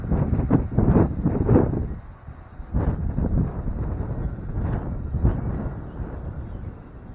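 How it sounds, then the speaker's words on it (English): Gusty wind buffets an outdoor microphone in a public peace garden, loud low rumbling bursts rising and falling across the whole stretch with brief lulls between strong gusts. "Oh boy, there's that wind again."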